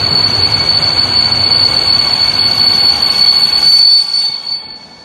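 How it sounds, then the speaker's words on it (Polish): An Intercity train running San service from Warszawa Wschodnia to Przemyśl Główny passes through Warszawa Zachodnia station amid construction, a loud close rumble with a sustained high wheel squeal that cuts off abruptly near the end. "pociąg Intercity San z Warszawy Wschodniej do Przemyśla Głównego"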